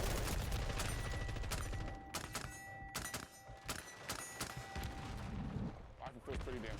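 Rapid rifle fire in a Call of Duty match, with several sharp bursts of shots in the middle of the stretch over steady game noise, and a voice talking throughout.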